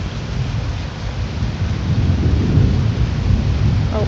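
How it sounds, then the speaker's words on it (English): A storm with hail and thunder in the video game Twisted makes steady rain and pelting with low rumbling thunder, loud and close, with no voices. "Oh, look, hail."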